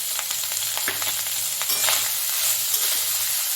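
Cooked rice is tipped into a hot pan and fried for lemon rice, producing a loud, continuous close-up sizzle with a faint low hum underneath and no talking.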